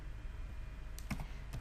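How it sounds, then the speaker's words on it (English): A few quiet keystrokes on a computer keyboard, typed while entering a sum function in an Excel spreadsheet, come as separate clicks late in a faint, steady room hiss. "Again, I am typing this function sum."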